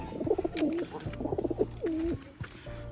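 Rajshahi pigeons coo close by, several soft rolling calls in a row with brief pauses, plus a light flutter or scrape in between.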